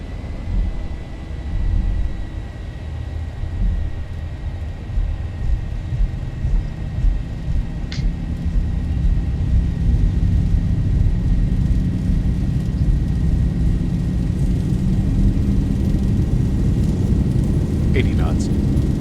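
Boeing 737-800 jet engines roar through a takeoff roll in the X-Plane 11 flight simulator, a broad steady rush that builds in strength midway and holds, with no voices over it.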